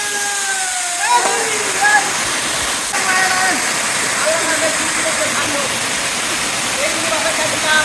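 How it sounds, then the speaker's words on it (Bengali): Khaiyachhara Waterfall in Mirsarai, Chittagong: a steady, loud roar of falling water fills the whole scene, with brief splashes and faint high tones riding over the constant rush. "এর উপরেও কিন্তু এই ঝর্ণার আরও কয়েকটা ধাপ আছে"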